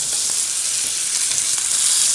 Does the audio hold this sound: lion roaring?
no